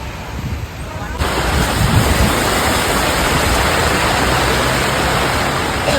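A sudden heavy rain and wind storm lashes a house, with dense, roaring broadband noise from the downpour and gusts filling the whole clip, loud and steady after a slightly quieter opening second.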